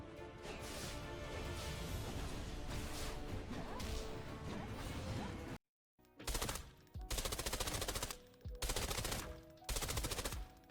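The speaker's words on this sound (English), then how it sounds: "we're going to be shooting a tier 5 target" Rifle fire with tier 4 SS190 ammo in Arena Breakout: Infinite, loud continuous automatic bursts at first, then after a brief silence several short rapid bursts with gaps between them.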